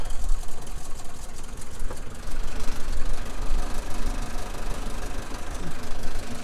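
A tractor with its PTO engaged drives a forage chopper drum, giving a loud, continuous mechanical roar with rattling vibration that holds steady throughout, close by.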